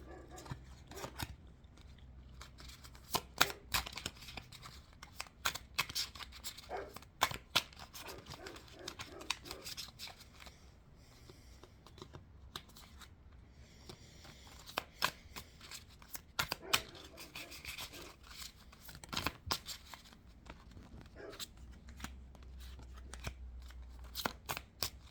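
Tarot cards shuffled by hand in a quiet room, a long run of crisp riffling bursts and soft slides with irregular pauses, close and moderately loud, with no talking.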